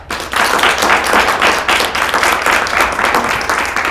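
Loud, dense applause comes from a town hall audience voting no on a health care question, a sustained crowd clapping that starts abruptly and holds steady, close and full.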